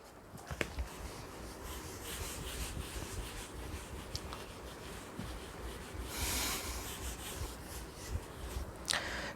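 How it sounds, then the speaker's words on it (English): Writing is rubbed off a classroom board in a chemistry lesson, a faint, steady scrubbing of a duster with a few soft taps, heard at close range. "I'll rub this out first."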